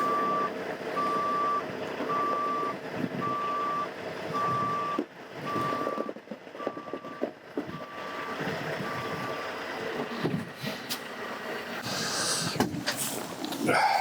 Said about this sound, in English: I always move the truck backwards if I can